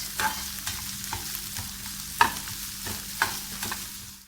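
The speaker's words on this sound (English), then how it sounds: "I'm going to saute the veggies first." Aromatic vegetables sautéing in a pan over medium-low heat, a soft steady sizzle punctuated by repeated scraping stirs with a utensil at a regular pace.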